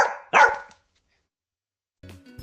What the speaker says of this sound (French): Faites comme le chien.